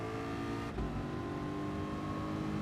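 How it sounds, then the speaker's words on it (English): A race car engine in GT Sport on the Monza circuit holds a steady, loud drone, then the pitch shifts partway through as the revs change, with no talk. "Let's try revving it out."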